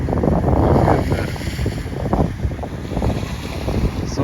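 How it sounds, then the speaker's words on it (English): Wind and rain outdoors beside a parked car, heavy gusting wind buffeting the microphone in a loud, continuous low roar with no speech. "Sorry that it's raining today and it's windy."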